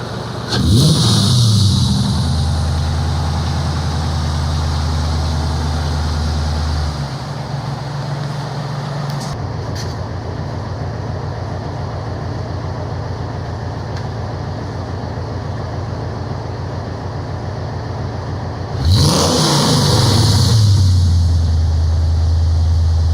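A restomodded Cobra engine starts up and revs loudly nearby, settles into a steady idle for a long stretch, then roars up again in a strong burst near the end, with no talking.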